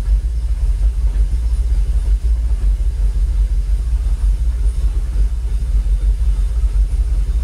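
A Jaguar XKR engine idles steadily at around 700 RPM with no faults or misfires, a constant low rumble that holds an even level throughout with no voices over it.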